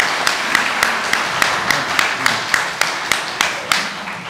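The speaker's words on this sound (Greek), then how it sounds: "αλλά είναι χειροκρότημα να του δώσουμε" An audience at a school award ceremony claps in steady rhythmic unison, about two to three claps per second, fairly close and loud, lasting throughout.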